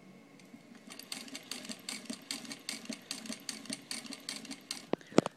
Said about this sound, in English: this is going to be the slowest you can go for it.